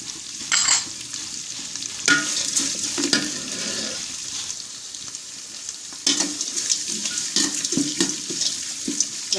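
Onion and garlic stirred and sautéed in a pot, with repeated scraping and sizzling in bursts, alongside a steady watery hiss and no talking.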